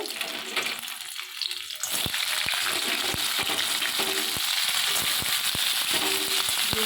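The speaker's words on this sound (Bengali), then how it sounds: "দেখুন তেলটা গরম হয়ে গেছে আমি এবারে কাঁকড়াগুলো দিয়ে দেবো এর মধ্যে" Crabs crackle and sizzle in hot oil, a dense steady frying hiss with repeated sharp pops and spatters, loud and close with no voices.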